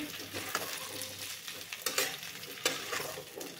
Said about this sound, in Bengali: এই পর্যায়ে দিয়ে দিচ্ছি কেটে রাখা আলু সিম দেওয়ার পরে এবার একটু নেড়ে দিচ্ছি